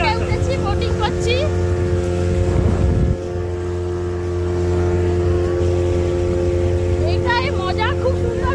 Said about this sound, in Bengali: এই যে বোটে উঠেছি, বোটিং করছি।